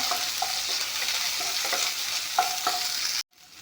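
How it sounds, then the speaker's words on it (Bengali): Ingredients frying in a pan for a chickpea and pea ghugni, a close steady sizzle with rhythmic stirring scrapes every half second or so, cutting off abruptly near the end; no voices. "এতিয়া এইখিনি ভাজি ল'ম"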